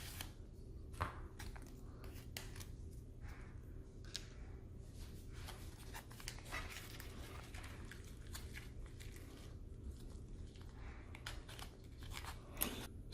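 Scissors cutting open a torn food pouch from a humanitarian daily MRE ration holding peas in tomato sauce, heard as faint, close snips and crinkly plastic crunches over a low steady background hum.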